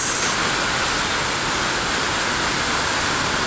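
Heavy rain pours down during a morning bike ride past trees, a dense, steady roar of broadband noise filling the whole stretch without pauses.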